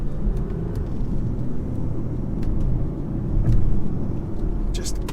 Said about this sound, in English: You get nice turbo noises from the engine.